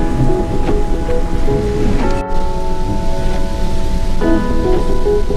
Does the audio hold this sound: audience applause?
no